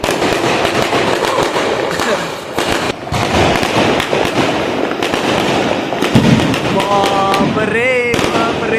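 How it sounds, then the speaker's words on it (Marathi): Firecrackers and bombs set off for a birthday celebration, a loud, continuous barrage of crackling bangs and sharp reports close by, with rocket whistles rising near the end and voices mixed in. "बापरे फटाके बॉम्ब"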